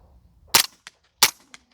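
Two suppressed gunshots from Ammo Inc rounds fired through a DeadAir Wolfman suppressor, about 0.7 seconds apart. Each is a sharp, close crack followed by a faint echo, with no voices.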